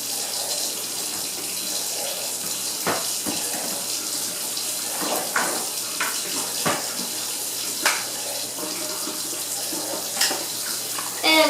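Hot water runs steadily from a kitchen faucet into a sink, a continuous hiss and splash with occasional clinks and small knocks of handling in the background.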